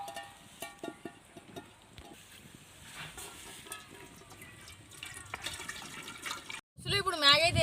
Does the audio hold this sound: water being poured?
yes